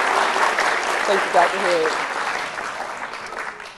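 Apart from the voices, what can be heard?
applause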